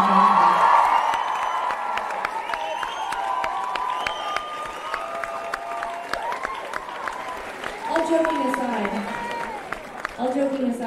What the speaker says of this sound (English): please give a huge, he deserves it, a huge round of applause